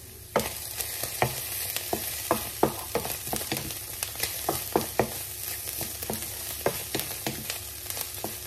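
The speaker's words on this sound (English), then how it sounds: "we will again cover the pan and we will let it cook for 5 minutes" Glass noodles with shiitake mushrooms frying in a covered pan, a steady close sizzle broken by frequent sharp ticks and pops of stirring, no voices.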